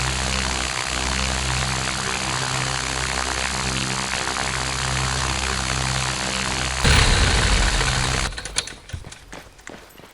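Helicopter engine in Arma 3 spooling up at a landing zone, a steady harmonic turbine whine with low rotor throb that holds loud and constant, then surges in a broadband rush before cutting to scattered rumbles near the end.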